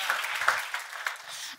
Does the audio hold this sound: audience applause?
yes